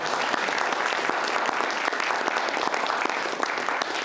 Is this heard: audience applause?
yes